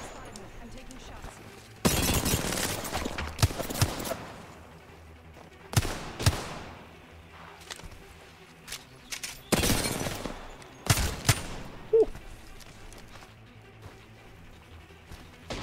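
Gunfire in a competitive online shooter match, several loud bursts of shots spaced a few seconds apart with quieter game noise between, while a player talks intermittently.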